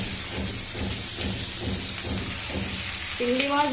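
Shrimp fry with chopped onion, garlic and green chili in a pan, a dense close sizzle with rhythmic stirring scrapes throughout and a brief tonal sound near the end.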